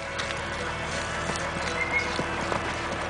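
A horse runs in a barrel race in a dusty arena, rhythmic hoof thuds and clip-clops fairly faint under a murmuring crowd.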